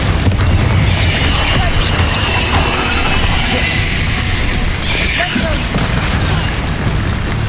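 Confringo fire spell in the Hogwarts Legacy game bursting in loud, dense booming blasts amid continuous combat noise, with a spoken incantation mixed in.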